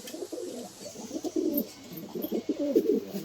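Madras and Giribaz pigeons in a Kolkata loft coo softly in repeated throaty bursts, close by, with no talk.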